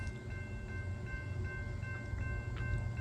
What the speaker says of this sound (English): I've got a southbound train coming.